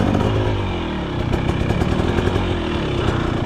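A 2023 KTM 300XC dirt bike engine runs in first gear while riding, a loud, close two-stroke buzz with a rapid pulsing rattle that rises slightly toward the end.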